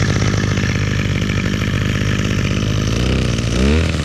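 Small gas chainsaw with a throttle fault that bogs out, running loud and close at a steady rasping high idle, then revving briefly near the end.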